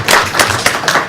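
Brief applause at a regional planning commission meeting honoring a departing commissioner, several people clapping in a steady patter for just over a second.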